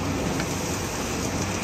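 Heavy autumn thunderstorm rain pours steadily in Tuscany, a dense, even roar with wind rushing underneath, continuous and close throughout with no voices.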